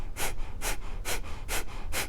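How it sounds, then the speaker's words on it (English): Five forceful Kapalabhati yoga exhales pushed through the nose, each a sharp breathy puff about every 0.45 seconds in a steady rhythm, close and clear with no talking. "in Kapalabhati, you whip the belly in and up, and you let the movement of your abdominals push the breath out of your lungs"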